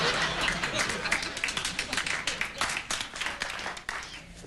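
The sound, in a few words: studio audience applause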